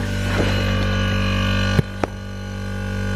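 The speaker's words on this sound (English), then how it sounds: "so that noise is the compressor." An air compressor running for an engraving machine gives a steady, droning hum close by, with two brief knocks partway through and no talking.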